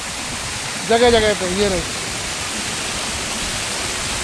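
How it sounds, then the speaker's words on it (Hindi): Water from a waterfall pours over a rocky hillside near Bhairavnath cave, a steady, even rush that fills the whole clip, with someone speaking briefly near the start. "पर ये झरना अल्टीमेट है ना"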